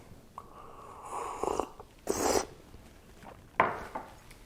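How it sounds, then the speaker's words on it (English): Hot tea slurped from a cup in a close, quiet setting: a few short, breathy sips spaced a second or two apart, alone, with no talking. "You may have noticed me slurping."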